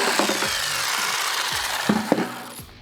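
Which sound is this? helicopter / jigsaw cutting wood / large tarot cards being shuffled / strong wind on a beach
jigsaw cutting wood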